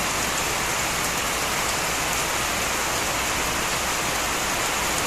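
Heavy rain pours down steadily in a dense, loud, unbroken hiss that fills the whole stretch, pattering on surfaces with no voices over it.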